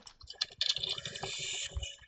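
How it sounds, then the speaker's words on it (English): Fast clicking keystrokes from a computer keyboard come in quick, uneven bursts, fairly close but quiet, with faint voices in the background. "Okay, who's typing?"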